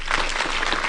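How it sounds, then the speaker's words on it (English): A short burst of crowd applause at a military command handover ceremony, dense and steady clapping from a gathering, heard alone without speech. "let me also invite this gathering here to extend a round of applause"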